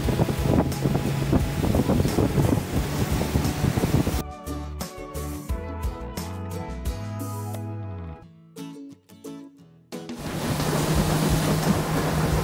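Steady roar of a boat engine at full speed and rushing wind and water, loud and continuous, on the way to Tortuguero, with a quieter stretch of tonal sounds in the middle.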